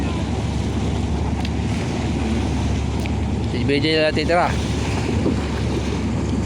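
Boat motors and wind noise on open water among many fishing boats, with waves and a steady rumble, while someone talks briefly over it.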